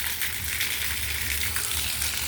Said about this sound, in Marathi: टाकी लिकेज झाली आहे संपूर्ण बिल्डिंगमध्ये बिल्डिंगवर पाणी पडत आहे